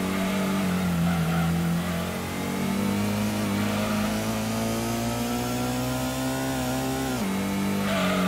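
Car engine in the Gran Turismo racing game on PlayStation, driving at the Autumn Ring circuit, revving hard and holding against the rev limiter, a steady loud buzzing drone with a brief dip before climbing again.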